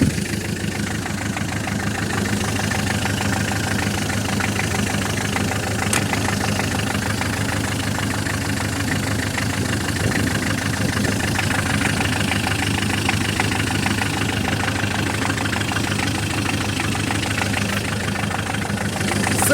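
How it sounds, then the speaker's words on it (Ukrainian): A warmed-up Ch 4 8.5 diesel tractor engine idles steadily, a loud, close, even low rumble with rapid rhythmic knocking that holds throughout without a break or any talking. "тракторець прогрівся"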